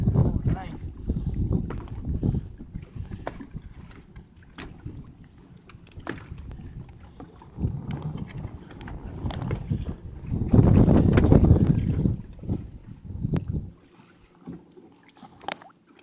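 Wind buffeting the microphone on a fishing boat on a lake, heavy low rumbling gusts that swell and fade in waves, loudest near the end, with people talking over it.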